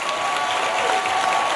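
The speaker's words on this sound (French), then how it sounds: "par applaudissement, qui voit le Gang Show en live pour la première fois?" Dense applause from a comedy show audience in a hall, steady and full for the short moment, no voices over it.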